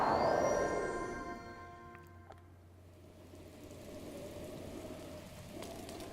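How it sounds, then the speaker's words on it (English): Rain falls in the video game The Legend of Zelda: Breath of the Wild, a steady soft hiss of rainfall that fades in after a swelling tonal chime and holds at a moderate, even level. "It is now raining."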